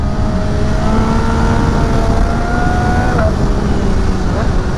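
An MV Agusta F3 800 RR motorcycle accelerates hard, its engine note climbing through rising tones and snapping upward as the quickshifter clicks through a gear, loud and close throughout.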